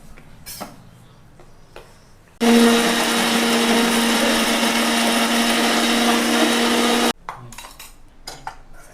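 A kitchen mixer grinder blends date and tamarind chutney in one loud, steady whirring run of about five seconds, with quieter kitchen clatter before and after.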